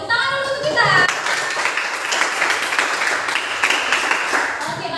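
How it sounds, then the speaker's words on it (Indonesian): A classroom of students bursts into dense, lively hand-clapping after a brief voice, the applause close and sustained to the end. "Tepuk tangan dulu untuk kita."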